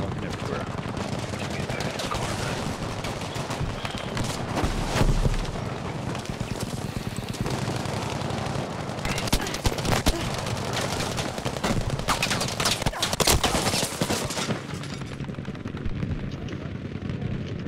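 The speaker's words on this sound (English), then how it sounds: "I'm getting shot at fucking everywhere" Gunfire in Battlefield V, a dense continuous barrage of machine-gun bursts, rifle shots and explosions, loud and close throughout, with a voice talking over it.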